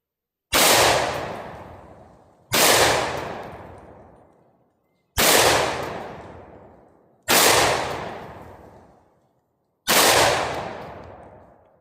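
A Mac 1014 shotgun fires 3-inch buckshot shells in five loud, close blasts spaced about two seconds apart, each with a long decaying outdoor echo.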